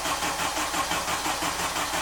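A Honda K24 engine in an Acura TSX cranks over steadily on the starter without catching, a loud, continuous churning whir that holds its level for about two seconds before cutting off abruptly.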